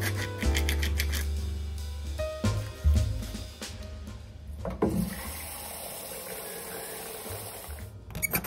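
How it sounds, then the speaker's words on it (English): Kitchen tap water runs into a measuring cup being filled with four cups of water, a steady close rush with bright clicks and clatter at the start and a change in the stream partway through. "So I am filling my measuring cup with 4 cups of water,"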